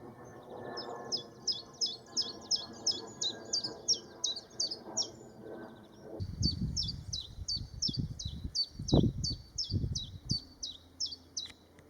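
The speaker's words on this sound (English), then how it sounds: "In spring, you can hear the monotonous metronome of the chiffchaff." Chiffchaff in spring woodland repeating its monotonous two-note song in a steady, metronome-like rhythm, clear and fairly near, with low rumbling background noise through the latter half.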